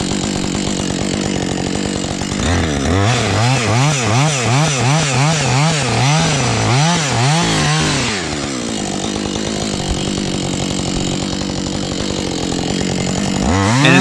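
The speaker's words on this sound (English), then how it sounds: "I'll basically finish off cutting this log in half" A chainsaw roars into a log on a volunteer trail-clearing job, the engine revving and bogging in rising and falling waves as the chain bites through the wood, then settling to a loud steady idle.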